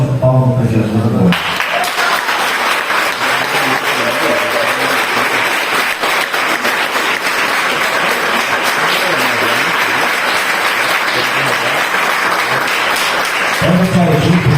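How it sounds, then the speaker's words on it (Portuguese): Church congregation breaking into loud, sustained applause, a dense wash of clapping hands filling the room for over ten seconds, with a voice speaking briefly before and after. "E eu quero que nós possamos dar uma salva de palmas para Jesus agora."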